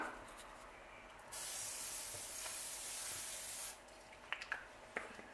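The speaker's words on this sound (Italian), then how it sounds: "Vado a prendere un po' di olio di cocco spray." Coconut oil cooking spray hisses from the can in one steady burst of about two seconds, close and quiet, followed by a few small taps and clicks.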